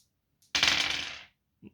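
Two dice are dropped and rattle briefly across a tabletop during a naval wargame, a single sharp clattering burst that fades within about a second, close and clear with no talking over it.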